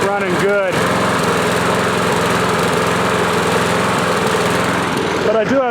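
A Yard Machine lawn mower engine runs poorly, a loud, buzzy small-engine drone with uneven surges and a rising rev near the start and end, close to the microphone; a voice is partly heard over it.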